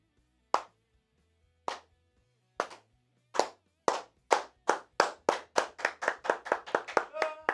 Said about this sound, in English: Did you ever slow clap to end a practice?